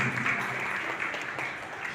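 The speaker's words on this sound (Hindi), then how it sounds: "हालेलुया, जोरदार ताली मारिए" A church congregation applauds at a Sunday service, a steady wash of many hands clapping at once, moderately distant and even throughout.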